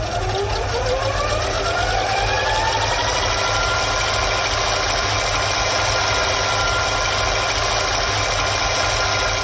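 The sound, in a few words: VHS cassette rewinding in a video recorder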